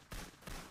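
Short bursts of gunfire in a shooting video game, two quick faint volleys in under a second, with no talk over them.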